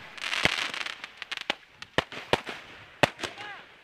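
Fireworks go off at a cricket league final, a rapid string of sharp crackling bangs at close to moderate distance, followed by a few scattered louder pops and a faint whistling streak.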